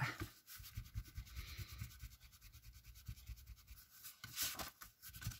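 A small eraser rubbing out a pencil line on an art journal page, giving soft rapid back-and-forth scrubbing strokes in short bursts, close and quiet with no voice.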